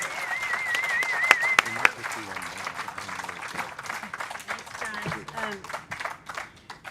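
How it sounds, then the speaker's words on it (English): An audience applauds at a music cafe and tiki lounge, steady clapping through the whole stretch with a few sharp whistles, while people talk over it. "Can we please have a huge round of applause for Cassie, our wonderful host?"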